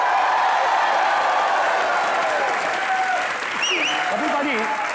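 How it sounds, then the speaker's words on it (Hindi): A TV comedy show's studio audience breaks into sustained, loud applause, a dense even roar of clapping with a few whistles and cheers rising near the end. "तालियां।"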